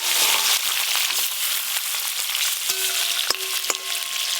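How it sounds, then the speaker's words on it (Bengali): Fish fry together in a pan of hot oil, giving a loud close hiss of sizzling with a few sharp metallic clinks from a utensil near the end, and no voices. "এই মাছগুলো সব একসঙ্গেই ভেজে নেব"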